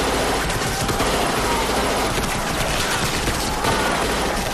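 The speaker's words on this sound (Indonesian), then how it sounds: "para tentara modern pun menembaki pasukan Mongol dan menewaskan banyak pasukan Mongol" Modern soldiers fire on Mongol troops in a film battle scene: a loud, continuous barrage of overlapping gunshots and automatic fire with no break.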